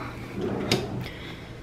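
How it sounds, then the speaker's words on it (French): A bedside table drawer in a Disney World Wilderness Lodge hotel room slides and knocks shut once with a short wooden thud, close but modest over quiet room tone. "Alors on a un tiroir."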